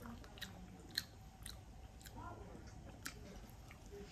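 Close, quiet mouth sounds of someone chewing BBQ ribs and gristle, with wet, sticky smacks and a few sharper crunchy clicks in an irregular rhythm.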